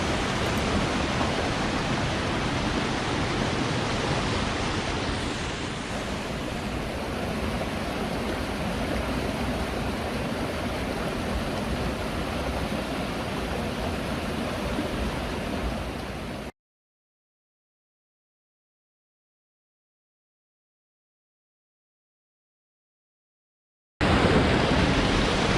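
Water in Workman Creek in the Sierra Ancha Mountains flowing as a steady broadband rush, loud and close, unbroken for about sixteen seconds, then cutting to silence before returning briefly at the end.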